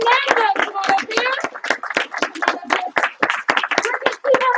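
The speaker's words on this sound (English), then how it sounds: "Give them a huge round of applause" Applause and clapping for students who have just earned their white belts in a martial arts class, steady hand claps with children's voices and light chatter mixed in, loud and close.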